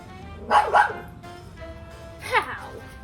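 A dog gives two quick close barks, then one more bark after a short pause, against a quiet indoor background.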